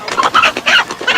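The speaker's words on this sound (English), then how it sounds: "That rooster." A rooster clucks and squawks in a short, loud burst of rapid calls, close by and with no voices.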